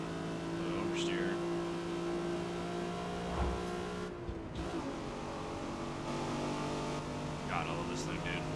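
A Nissan G35 time attack build in Forza Motorsport drones with a loud, steady engine tone, with brief rises and dips as it revs and shifts through the run.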